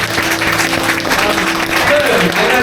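An audience at a church ministry gathering on Temple Street, Hong Kong, claps in a sustained, dense patter, with a voice talking over the applause throughout.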